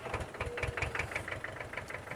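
A small tractor engine idles in the video game Farming Simulator 19, a steady rapid knocking chug with evenly spaced pulses, close and moderately loud.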